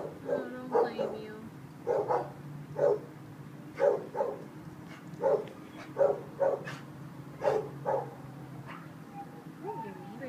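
Dogs barking in an animal shelter kennel, a series of sharp, fairly close barks and yips in an uneven rhythm, with a steady hum and a person speaking softly beneath them.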